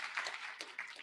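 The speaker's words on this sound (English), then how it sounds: "Can we give him a clap?" Audience applause at an International Women's Day celebration at the Kenya School of Government, a short burst of dense, steady clapping from a crowd with no voices over it.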